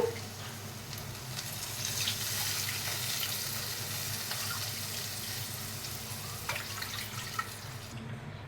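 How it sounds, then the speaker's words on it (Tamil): Water is poured steadily from a cup into a cooking pot for several seconds with a soft, continuous splashing hiss, fairly quiet, before trailing off near the end. "நான் இந்த கப்பில் 2 கப் அளவு தண்ணி ஊற்ற போகிறேன்."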